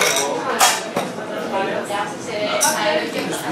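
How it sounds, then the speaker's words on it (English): Martini being stirred with ice in a mixing glass at an Athens bar, light clinks and glassy chinks of ice against glass and spoon, close and intermittent, with a voice talking over it. "So I'm going to stir this up"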